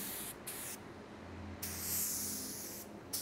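A spray gun at 1.5 to 1.8 bar inlet pressure lays primer surfacer onto plastic in short, close hissing bursts separated by brief pauses.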